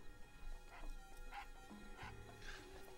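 A dog barks and yips several times at a moderate distance, short sharp calls scattered over a faint background, with voices talking nearby.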